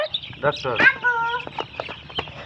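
Chickens cluck and squawk close by in short, irregular bursts, with a brief higher rooster-like call in the middle and background chatter.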